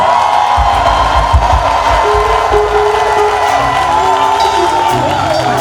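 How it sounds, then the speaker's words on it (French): A congregation at a worship event cheers and acclaims loudly, a sustained roar of voices with shouts and whoops, plus a low rhythmic thumping beneath the crowd. "est-ce que tu peux pousser de ton acclamation?"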